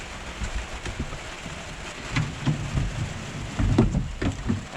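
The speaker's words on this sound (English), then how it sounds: "but it's raining and it's getting a bit dark" Steady rain patters across a van's surface with a soft broadband hiss, with occasional low thuds and rumbles mixed in.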